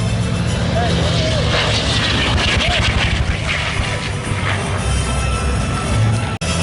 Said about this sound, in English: Here comes the Bearcat from Show Right.